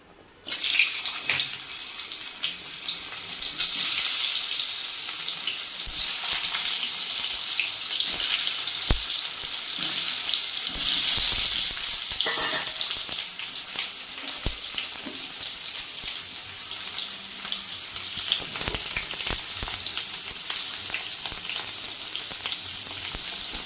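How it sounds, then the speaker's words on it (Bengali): Potatoes fry in hot oil with a dense, constant, hissing sizzle that starts abruptly and holds loud throughout, with a few faint stirring knocks and no voices. "প্রথমে হচ্ছে আমি আলুটাকে ভেজে নেবো"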